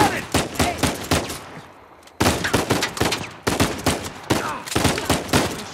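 Gunfire in Uncharted 4, loud bursts of rapid shots in clusters, with a brief lull before the firing resumes, close and alone without talk.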